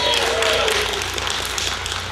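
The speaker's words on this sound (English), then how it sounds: "Let's hold our applause for the end of the show." An audience at a political debate applauds, a dense wash of many hands clapping that holds steady and fairly loud throughout, with voices mixed in under the clapping.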